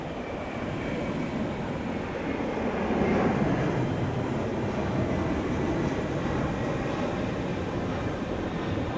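An Airbus A300 jet airliner takes off at Houston Intercontinental airport, a steady broad engine roar heard from a distance, swelling slightly midway then holding.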